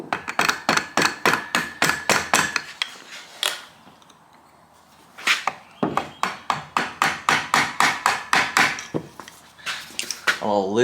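A hammer taps on seized, crusty piston rings in an old chainsaw, sharp metallic strikes in quick even runs, a pause with quiet fiddling in the middle, then another steady run of taps, close and loud.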